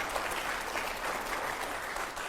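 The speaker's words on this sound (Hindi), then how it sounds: "जोरदार तालियां हो जाए जरा एक बार।" A studio audience at a Hindi political talk show breaks into steady, dense applause, a continuous wash of many hands clapping that holds at an even level throughout, with no talking over it.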